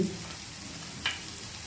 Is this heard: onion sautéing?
yes